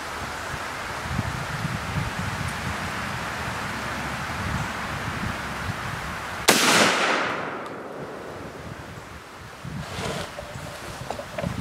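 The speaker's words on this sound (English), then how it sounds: "shooting the Benelli M2 field using the Indian Creek choke" A single sharp Benelli M2 Field shotgun blast fired with an Indian Creek Black Diamond choke tube on an outdoor range cracks out loud and close, then decays over steady wind and rustling.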